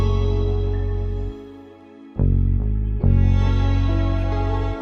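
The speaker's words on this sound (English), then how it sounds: "for some low end, just a simple bass with those riffs that just give it some kind of flavor variation" A simple bass line with short riffs plays inside a beat, thick and loud low end with a dense layer above it, dropping out briefly and returning with punchy accents.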